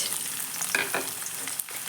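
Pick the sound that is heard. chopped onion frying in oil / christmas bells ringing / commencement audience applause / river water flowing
chopped onion frying in oil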